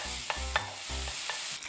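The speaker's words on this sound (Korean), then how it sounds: "올리브 오일 5ml에 애호박을 볶아줍니다." Zucchini stir-fried in 5 ml of olive oil gives a short burst of soft sizzling, broken by a few quick scraping and stirring clicks.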